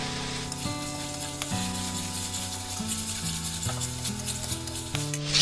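Chopped tomato hits spiced masala in a hot pan for a taro and prawn curry, giving a steady, moderate sizzle with stirring scrapes under soft background music.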